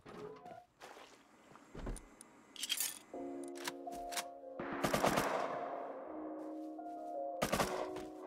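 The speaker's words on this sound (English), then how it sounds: "This guy's shooting me through that." Gunfire from another player in the video game Rust comes as sharp shots and short bursts spread across the stretch, mixed with tonal game effects and mechanical whirs.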